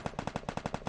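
Rapid automatic gunfire in the Free Fire video game, about a dozen sharp shots in a fast, even burst, loud and up close with no talk over it.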